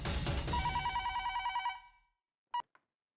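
A telephone rings indoors with a bright, warbling electronic tone that pulses for about two seconds, then falls silent before one more short ring.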